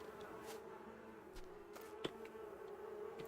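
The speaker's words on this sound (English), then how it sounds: "Okay, let's get these bees done. Because I can hear them buzzing." Bees buzz steadily throughout the farming video game Harvet, a continuous moderate drone with occasional faint clicks and no talking.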